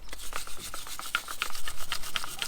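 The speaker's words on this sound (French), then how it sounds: "maintenant on va pouvoir passer un petit coup de brosse sur les étriers" A brush scrubs the brake calipers of a Renault Trafic van in quick, rough back-and-forth strokes, a close, dry scratching rhythm with no voices over it.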